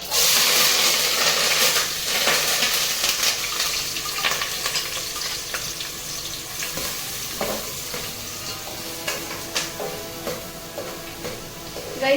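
Chopped onions, curry leaves and chilli hit hot oil already popping with mustard seeds, giving a loud, steady sizzle with crackling spits and occasional stirring scrapes that slowly ease in intensity.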